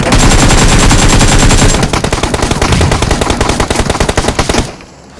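Rapid automatic gunfire in a live online shooter match, loud and continuous bursts with steady rattling, easing slightly midway before cutting off near the end.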